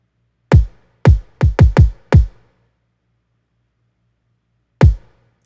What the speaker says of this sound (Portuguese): primeiro você ouve, por exemplo, esse kick aqui, ó.